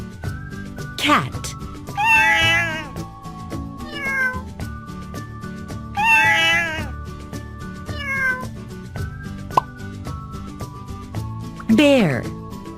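A cat meows several times in clear, drawn-out calls spaced a few seconds apart, loud and close over a continuous musical backing.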